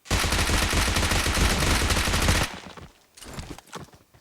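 Rapid automatic gunfire in a video game bursts loud and dense for about two and a half seconds, then a few scattered softer shots and clatters follow.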